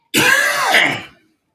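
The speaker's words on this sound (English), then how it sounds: "I don't know why I'm coughing so much." A single short, raspy cough with a throaty, voiced edge, close up and loud, then silence.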